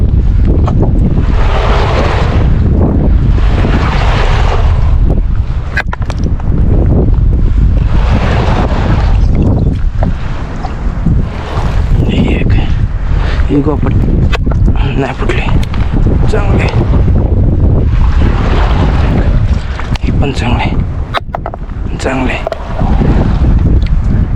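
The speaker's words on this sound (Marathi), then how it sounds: "वारा पण जाम आहे" Strong wind roars and buffets the microphone continuously, loud and gusty, with voices talking intermittently underneath, after rain.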